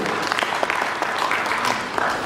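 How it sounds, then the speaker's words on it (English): At a conference panel discussion on consumer risk perception, the audience applauds the panelists in a steady, dense round of clapping that carries evenly throughout at moderate loudness, with no clear talk over it. "Please, a big round of applause to our panelists."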